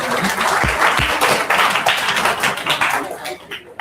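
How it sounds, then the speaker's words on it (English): Applause from an orientation program audience fills the room, a dense steady wash of many hands clapping, loud and close, with a couple of low thumps and a faint voice under it near the end. "Please have a round of applause for Ankita"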